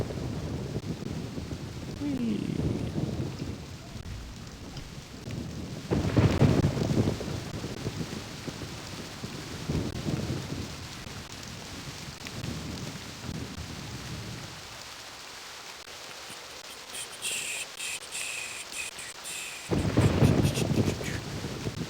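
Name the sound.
rain and thunder in the Myst video game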